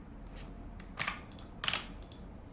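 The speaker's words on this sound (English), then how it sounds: "Those mechanical keyboards sound good." Mechanical keyboards clatter under steady typing, with a few louder bursts of clicky keystrokes over a low background hiss, fairly faint and close.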